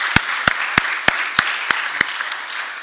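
Sparse applause from a small workforce development policy event audience, a few distinct claps spaced evenly and fairly close over a faint room murmur.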